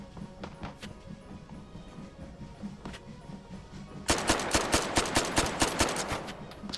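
Semi-automatic gunshots in the VR shooter Hot Dogs, Horseshoes & Hand Grenades ring out loud and close, a quick regular series of single shots following a few quieter clicks and taps.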